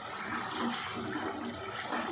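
Water poured into a pot of chicken haleem, a soft continuous splashing and gurgling rush lasting a couple of seconds, fairly quiet and close.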